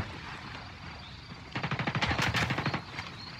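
Video game gunfire: a faint rumble gives way to a loud, rapid machine-gun burst of evenly spaced shots that tails off into a few scattered rounds.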